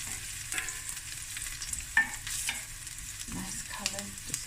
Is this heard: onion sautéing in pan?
yes